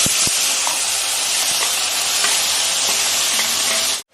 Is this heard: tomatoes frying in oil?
yes